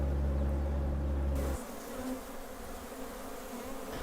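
Honeybees from swarms settled on separate hive frames make a dense, continuous buzz, fairly close and moderately quiet. A low droning hum underneath drops away partway through while the buzzing carries on alone.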